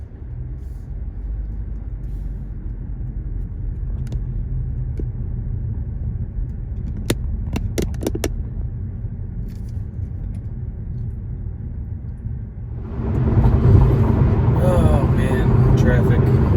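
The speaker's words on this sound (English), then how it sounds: "Traffic." Road traffic rumbling steadily from inside a moving car, a low continuous drone that swells louder near the end as passing vehicles or faster road noise take over.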